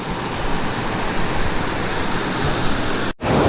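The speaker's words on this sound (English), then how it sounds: "Beautiful waterfalls." Waterfall along a mountain trail on a multi-day hike in northern British Columbia, a loud, steady rushing roar of falling water that holds evenly before cutting off abruptly near the end.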